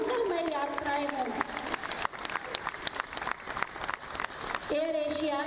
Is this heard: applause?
yes